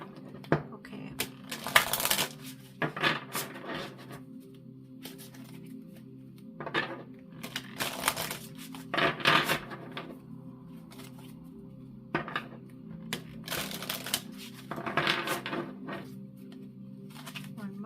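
Mystical Martian oracle cards being shuffled, with bursts of quick riffling and flapping cards in several rounds, close and crisp, separated by short pauses under a steady low hum.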